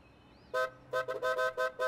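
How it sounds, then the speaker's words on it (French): Cartoon bus horns honking, a series of bright tonal toots in quick irregular bursts after a short quiet lead-in, loud and close with no talking. "Allez, klaxonnez."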